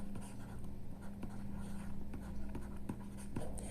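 Chalk or marker writing equations on a board during a math lesson, with quick scratching strokes and taps, fairly faint over a steady low hum.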